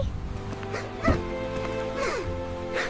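A small puppy yips and whimpers in a few short, thin bursts against a steady background hum, fairly close and moderately loud.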